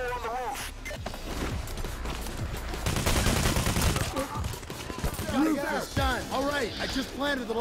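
Gunfire in the video game PayDay: The Heist, with rapid bursts and volleys of shots running under loud, continuous talk from a player.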